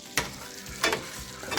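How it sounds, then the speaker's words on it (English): Grits being stirred in a pot, three short scraping strokes of a spoon over a low simmering background, close and quiet. "Gotta keep stirring those grits"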